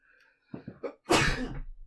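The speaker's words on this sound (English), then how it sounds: "Excuse me, sneezing." A few quick catching breaths build up, then one loud, explosive sneeze close by.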